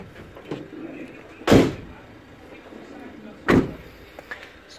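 Twin rear doors on a 65-registration Vauxhall Vivaro long-wheelbase crew van shut twice, two loud solid thuds about two seconds apart, close by, with quieter handling noise between them.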